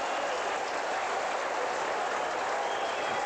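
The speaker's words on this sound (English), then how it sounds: "North Adelaide crowd particularly happy with the way their side's performing tonight." Australian football crowd at a 1986 Fosters Cup match between North Adelaide and Melbourne applauding and cheering; steady dense roar of clapping that holds at one level throughout, distant and wash-like.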